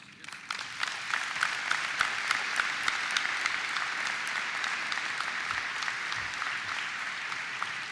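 Sustained applause from a commencement audience at Horry-Georgetown Technical College, a dense steady wash of clapping that holds at an even level from start to finish with no voices over it.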